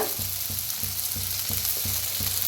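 Turmeric and red chilli fry with tomato, onion and spring onion in a pan, a dense, bright hiss broken by a regular series of soft stirring strokes, close and steady with no voices.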